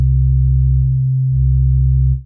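Sub oscillator on the Cherry Audio Sines synth, a pure, deep sine tone an octave below, held steady and loud for about two seconds with a brief dip in the middle, no talking.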